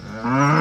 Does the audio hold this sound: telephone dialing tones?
no